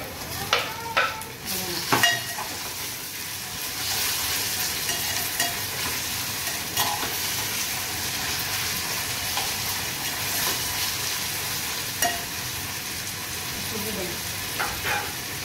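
Onion and tomato sizzle and fry in a pan while being stirred, a steady close frying hiss with scattered clinks and scrapes of a spoon, no talk.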